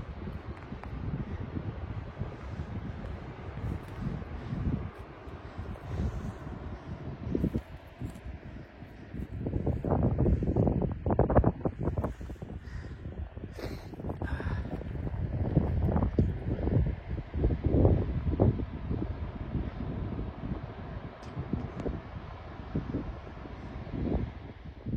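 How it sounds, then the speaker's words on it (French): Wind blows steadily outdoors at a bushcraft camp, rushing and gusting in broad surges that peak midway, with rustling and microphone buffeting throughout and no talk. "ça caille un peu, il y a un peu de vent"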